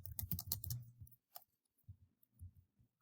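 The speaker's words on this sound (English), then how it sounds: "So you just start typing here." Quiet keyboard typing: a quick burst of clicking keystrokes, then a pause and a few scattered taps, close and soft.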